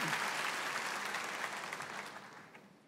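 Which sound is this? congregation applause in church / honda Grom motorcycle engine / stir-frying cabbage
congregation applause in church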